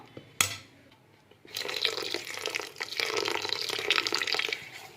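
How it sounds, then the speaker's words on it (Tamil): Water poured into a bowl of multivitamin dosa batter, starting after a single sharp knock and running as a steady close splashing stream for several seconds, no talking. "இப்போவே தண்ணியும் ஊற்றி நல்லா கரைச்சி வச்சிடலாம்"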